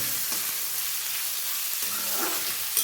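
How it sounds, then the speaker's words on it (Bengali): Radish fries in hot oil in a pan with asafoetida for a vegetarian curry, producing a continuous, even, close sizzling hiss throughout with no talking. "আমি এখন মূলোটা ভেজে নেব ভালো করে"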